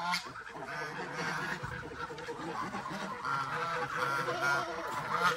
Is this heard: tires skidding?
no